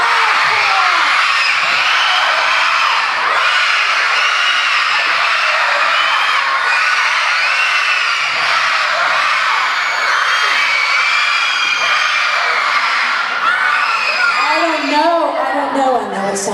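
Elementary school children at a morning assembly cheer, scream and shout together in a sustained, loud crowd roar, and an adult voice is briefly heard near the end.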